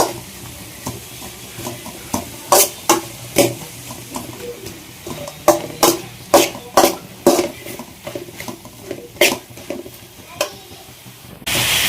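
Chicken keema masala with turmeric cooking in a pan, with a steady low sizzle under repeated sharp scrapes and taps of a spoon stirring, roughly one stroke per second, close and fairly loud, with no talking.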